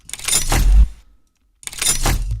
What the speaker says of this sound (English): And then we have this other lockdown sound that sounds like this.